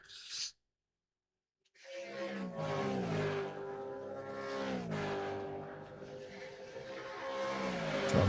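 Race cars lap a Manawatu Car Club winter series club race, engines droning loudly with rising and falling revs as a pack passes close by, after a brief burst of sound and a short silence at the start.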